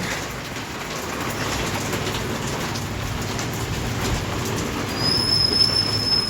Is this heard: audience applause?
no